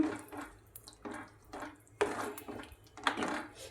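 Water splashes and trickles into a cooking pot in several short pulses, with faint clinks of metal, quiet and close.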